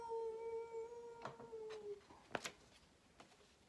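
A person imitates a basset hound's howl, giving a sustained, wavering vocal tone of about two seconds followed by a few short sharp vocal bursts, close and fairly quiet.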